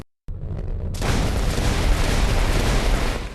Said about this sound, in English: Oppressors can deploy rail howitzers, plasma mortars, and long-range strategic strike guns.